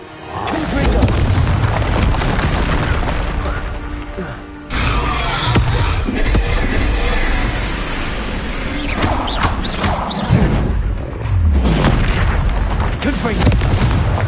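Repeated Confringo spell blasts in the Hogwarts Legacy video game, loud booming explosions and crashes filling the whole stretch with a brief lull near the middle, with some voice mixed in.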